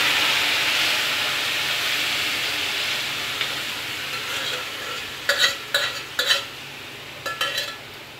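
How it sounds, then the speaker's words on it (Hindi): Suran (yam) vegetable curry is tipped into a kadhai and stirred, first as a continuous soft sizzling hiss and then as a few sharp spoon scrapes and clanks against the pan near the end. "ये पूरी पूरी पूरी सब्ज़ी जो है इस कढ़ाई में पलट दी जाएगी"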